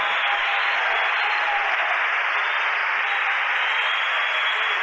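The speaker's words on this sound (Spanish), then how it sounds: "Un aplauso fuerte." Loud, sustained applause from a church congregation during a sermon, heard as a dense, steady band of clapping noise with a compressed, broadcast-like quality and no speech over it.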